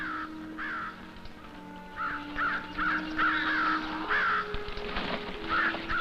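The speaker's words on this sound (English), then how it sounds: "The fish crows are landing." Fish crows give repeated nasal caws, several birds calling in short bursts at moderate distance over a steady outdoor background.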